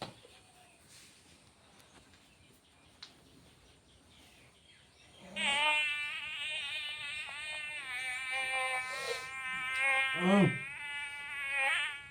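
A recorded mosquito buzz played from a device held near a sleeping person's ear, a steady high whining drone starting midway and continuing loudly to the end, with faint background noise before it.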